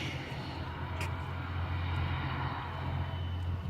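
Small propeller airplane at Springfield Branson National Airport, heard as a steady, fairly distant engine drone that holds even throughout with outdoor background noise.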